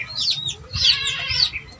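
Gamecock rooster clucking while being dosed with calcium and vitamins, a few close, high, throaty clucks and squawks in quick succession.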